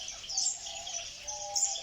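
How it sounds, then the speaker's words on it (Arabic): Bright, rapid twittering from goldfinches in an aviary, a continuous run of high chirps with a couple of louder peaks, close by and free of voices. "هذا بالنسبه للطائر الحسون"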